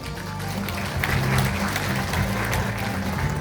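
A crowd at a 2024 Daejeon Yuseong district parliamentary report meeting claps steadily at moderate distance, with a voice over a public address speaking briefly.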